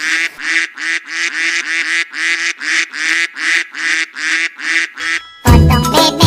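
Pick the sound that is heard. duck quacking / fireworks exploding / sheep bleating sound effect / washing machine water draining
duck quacking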